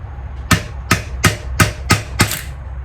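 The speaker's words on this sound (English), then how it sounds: "I'm just going to use this punch to gently tap this, try to break free from that rust" Six sharp metallic taps from a punch struck against a rusted AR-15 part, evenly spaced about a third of a second apart, close and distinct with short ringing decays.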